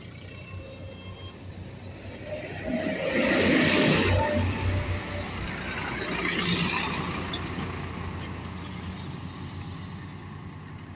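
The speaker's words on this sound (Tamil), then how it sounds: "நொடிக்கு நொடி பேருந்து போக்குவரத்து நிறைஞ்ச இடம்" Buses and other vehicles pass along a tar road beside open farmland, two engine swells rising and fading from mid-distance over a steady background rumble.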